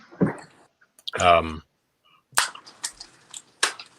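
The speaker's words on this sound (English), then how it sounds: "people lighting off fucking goddamn fireworks" Fireworks go off outside at night as sharp, scattered bangs and pops, a few fairly close and others fainter, with muffled talk in between.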